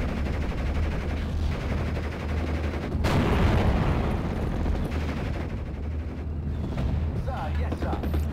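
Gunfire in the World War II strategy game Steel Division: Normandy 44, with troops laying down pressure fire on enemy grenadiers: a steady crackle of distant shots and machine-gun bursts under a talking voice.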